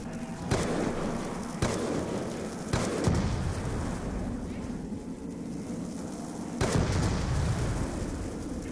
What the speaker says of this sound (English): So just listen to this gun, check it out, see if you guys like it, and let me know what you think about this Barrett here